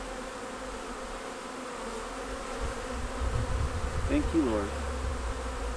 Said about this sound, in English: They're such tiny bees, too.